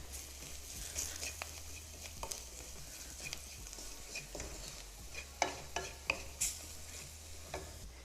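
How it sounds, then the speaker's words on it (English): Spices for matar paneer sizzle and roast in a hot pan while a utensil stirs them, giving a steady frying hiss broken by soft scraping and clinks against the pan, heard close with no talking. "Now we're going to roast the spices for about 2 minutes."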